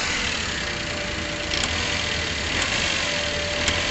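A car engine idles roughly with a steady, shaking vibration, running close and continuously with small irregular bumps and no voices.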